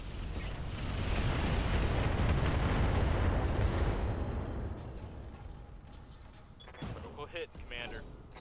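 A mech's alpha strike in Roguetech unleashes a loud, sustained roar of combined weapons fire that swells, then tapers off, followed by scattered mechanical clanks and impacts.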